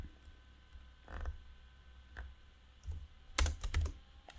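Code being typed on a computer keyboard while declaring a C# variable, heard as a near series of soft key clicks, first scattered and then a quick flurry, over a faint low hum.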